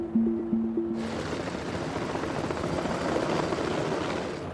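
A helicopter's rotor thrums steadily and loudly close by, flying low near Mount St. Helens, a continuous chopping roar that starts abruptly after a brief low hum.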